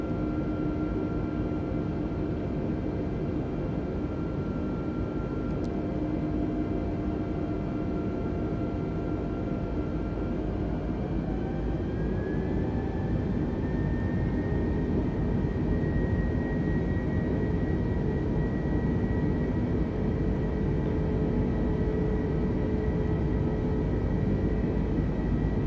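Airbus A320neo jet engines in Microsoft Flight Simulator drone steadily with a broad, even roar and a faint rising whine, continuous and close throughout, with no talk.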